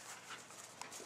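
A young puppy playing outside pants quickly and gives a faint whimper, a short close burst of breathy panting with no speech.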